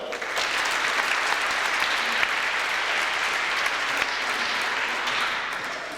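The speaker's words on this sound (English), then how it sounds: "let's give another round of applause for the tournament runner-up, the Hornets" Steady applause fills a basketball championship awards ceremony at a Glasgow Little League NBA event, a crowd clapping continuously at moderate loudness with no voices over it, tapering slightly near the end.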